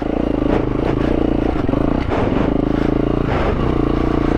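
A 2022 KTM 350 EXC-F dirt bike rides over loose rocks and boulders, its engine droning steadily and loud with clattering and scraping from the terrain.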